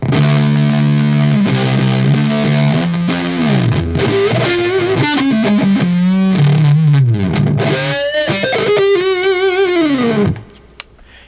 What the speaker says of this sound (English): you need a nice clean sound, and you need a lot of distortion on top of it.